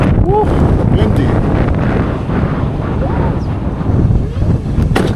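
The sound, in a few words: strong wind at Tonga coast blowholes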